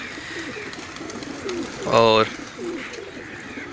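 Racing pigeons coo and call in a loft, with one louder burst of cooing near the middle, while someone talks in Hindi over the birds.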